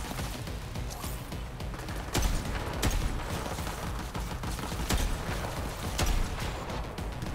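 Sniper rifle shots in the Borderlands 3 video game, several sharp, loud cracks spaced a second or two apart over a busy, noisy battle background.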